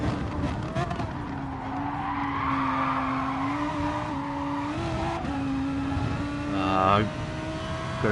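An Audi R8 skids in a racing video game, its engine droning with a steady tone while tires squeal through a mid-corner slide, and a short burst of tire screech comes near the end.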